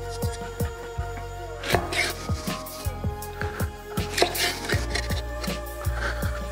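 A knife slices through juicy Chinese BBQ pork on a cutting board, a quick series of sharp, close chopping knocks in an uneven rhythm, with no talking.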